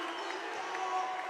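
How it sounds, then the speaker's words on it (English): Crowd at a men's college basketball game cheering late in a close contest, a steady wash of distant voices and noise with no distinct peaks, heard only briefly. "Crowd getting into this one now."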